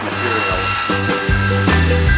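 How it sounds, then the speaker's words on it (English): A saw cuts waste material off a piece of boulder opal, a loud, close grinding whine that pitches up and down in short surges as the blade bites into the stone. "you can save grinding time by sawing off the waste"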